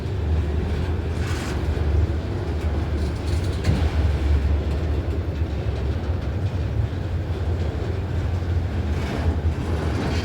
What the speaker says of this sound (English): Putting on brakes, you hear the squeak?